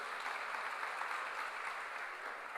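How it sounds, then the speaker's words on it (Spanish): Loud, sustained applause from a church congregation, a dense, steady wash of clapping hands that fills the room without pause for the whole stretch. "Démosle un fuerte aplauso a Dios."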